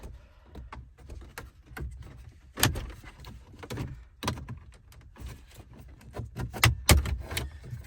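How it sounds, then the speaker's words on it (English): Trim tool prying a plastic interior trim panel loose on a 2023-or-newer Ford Super Duty truck, giving a run of sharp clicks, pops and rattles at close range, some louder snaps near the end. "I'll take my trim tool, I'll stick it behind this piece of trim and just kind of give it a twist. And it should pop loose."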